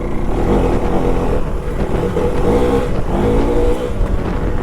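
A 390cc adventure motorcycle sitting in second gear has its throttle blipped against the clutch, and its engine drones loud and close throughout with slight surges in revs.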